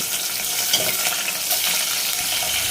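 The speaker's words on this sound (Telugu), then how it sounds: "అలాగే ఒక పది నుంచి పదిహేను వరకు పచ్చిమిరపకాయలు కూడా వేయించుకొని పక్కన పెట్టుకోవాలి" Green chillies frying in oil, a loud, even sizzle close up with faint stirring, steady for a few seconds without speech.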